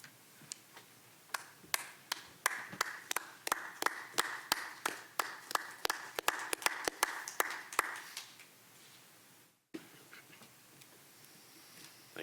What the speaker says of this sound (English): I know that there are really only two of us here to clap